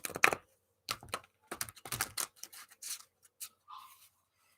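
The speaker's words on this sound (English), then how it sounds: "Let me shuffle this real quick." Tarot cards shuffled close up in a quiet room: a run of quick, papery riffles and taps in uneven bursts, with a short faint tone near the end.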